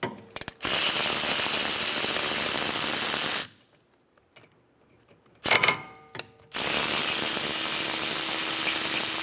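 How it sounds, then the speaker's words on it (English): A 12mm socket on a ratchet backs out the rear brake caliper bolts on a 2013-2017 Honda Accord, with two bursts of rapid metallic clicking close by, separated by a quiet pause and a brief clank. "Using a 12mm socket, remove the caliper bolts."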